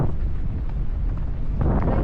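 Strong wind buffets the microphone while parasailing over the sea at Boracay, a steady low roar with gusts that swell louder near the end, no talk.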